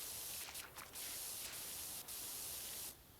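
Spray from a pressure washer in the PowerWash Simulator video game, a steady broad hiss running nearly the whole clip with a few brief sharper bursts, cutting off near the end.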